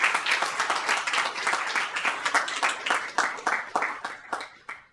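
An audience at a school board meeting claps for student piano and percussion performers, a steady patter of hand claps that tapers off toward the end.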